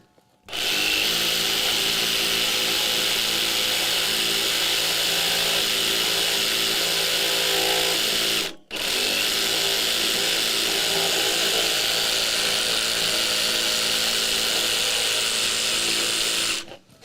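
A power sander works steadily on a handmade mandolin, a loud continuous whirring grind that cuts out briefly midway and then resumes at the same even level, close by with no talk.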